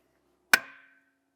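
A single sharp metallic whack of a hammer on a seized brake rotor of a Porsche Panamera, loud and close, with a short ringing tail that fades within half a second.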